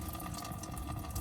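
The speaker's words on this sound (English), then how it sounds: "So as you turn it, that thing start coming up. And it start draining." Antifreeze draining from the radiator of a 2001 Toyota Camry, a steady faint liquid trickle and splash, continuous and close, with no voices.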